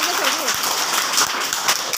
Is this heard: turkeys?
no